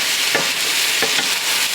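Mushrooms and onions sautéing on a stovetop, a loud steady sizzle up close with a couple of soft stirring strokes, and no talk.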